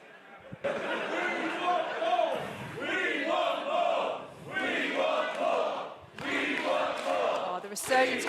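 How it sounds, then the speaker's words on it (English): A wrestling crowd at a British Invasion show chants and cheers in loud, repeated bursts about every second and a half, rising and falling in a steady rhythm. "Oh, the resurgence crowd really getting into this one."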